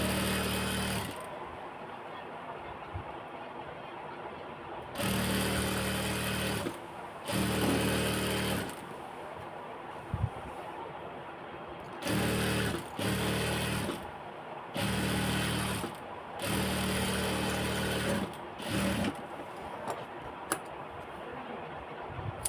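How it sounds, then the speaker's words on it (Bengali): Sewing machine stitching the cuff of a kameez sleeve, running in repeated bursts of a few seconds each with short pauses between, steady and close. "এখন মহড়াটা সেলাই করব।"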